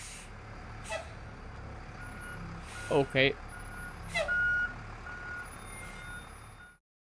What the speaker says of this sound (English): Garbage truck, a bus, something.